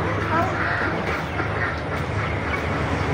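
Ducks quack repeatedly nearby in a busy, noisy setting, with people talking over them.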